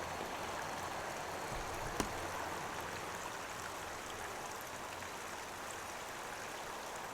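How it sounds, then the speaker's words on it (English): Steady rushing water drains from a hot tub continuously throughout, like a strong drain or outflow, with one brief knock near the start. "there's still a lot more water to drain"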